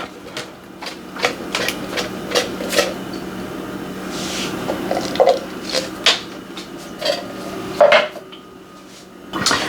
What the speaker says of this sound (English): I'm going to line the bottom of my pan with that can of apples